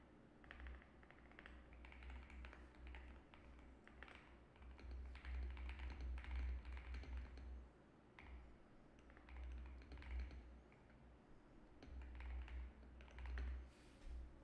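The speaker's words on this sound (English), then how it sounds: "I'm clicking space, dude." Computer keyboard keys click in quick, irregular bursts during live day trading, close and faint, with a low steady hum underneath and no talking.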